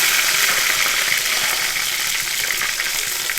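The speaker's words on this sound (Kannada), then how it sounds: "ಈಗ ಕರಿಬೇವಿನ ಸೊಪ್ಪನ್ನು ಹಾಕುವ" Curry leaves hitting hot oil in a pan while cooking soya chunks sukka, giving a loud, steady hiss and crackle of frying that runs continuously and alone throughout.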